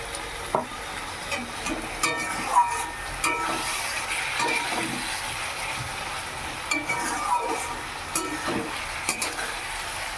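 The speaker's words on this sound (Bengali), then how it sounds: "মশলাটা একটু ভালো করে কষে নিই" Spice paste for a Bengali fish curry fries and sizzles steadily in a pan, with a continuous crackling hiss and intermittent stirring scrapes and light clinks, close and moderately loud throughout.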